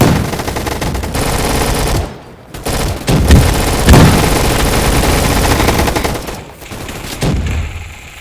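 Rapid video-game gunfire fills the whole stretch of a gun fight arena match, loud and continuous with sustained automatic bursts and a few brief gaps.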